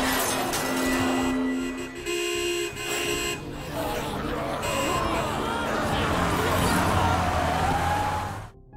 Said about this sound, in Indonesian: tiba-tiba muncul sebuah mobil yang mencoba menarik perhatian para zombie tersebut